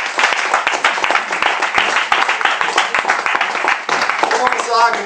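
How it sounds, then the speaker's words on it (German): Audience at a German pub comedy show breaks into applause, a dense burst of clapping throughout with a voice calling over it. "Danke, danke, Applaus."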